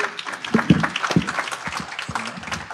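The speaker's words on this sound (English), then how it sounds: "Let's give them a round of applause." A conference audience gives a small round of applause for two speakers, sparse and uneven individual claps rather than a dense roar, close and fairly loud, with scattered voices mixed in.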